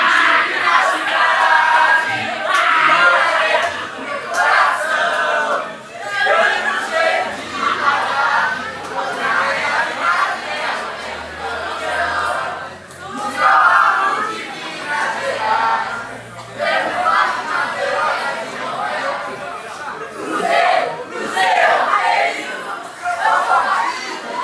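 Football supporters, including Cruzeiro fans, singing and chanting together as a large crowd, a continuous dense wash of many voices with chatter and occasional laughter mixed in.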